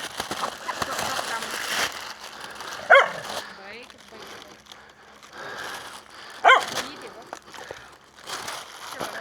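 Two sharp dog barks ring out several seconds apart, near and fairly loud, amid a person speaking and calling.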